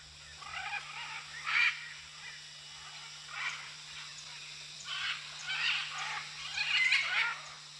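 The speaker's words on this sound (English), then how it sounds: "Hundreds of red and blue macaws flock to this bank each day, racing each other to find a good perch." Red and blue macaws squawk and call in scattered bursts as a flock gathers at a clay bank in South America, harsh cries rising and falling at a moderate distance over a low steady background hum.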